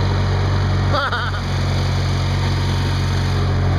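A lawn tractor engine drones steadily and close throughout, a constant low hum with a higher whine on top, briefly overlaid by a short burst of speech-like sound near the start.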